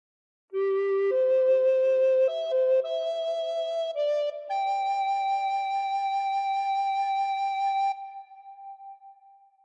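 A phrase of Amazing Grace on a recorder, several notes stepping upward in a smooth legato line before a final held high note that fades away, played alone.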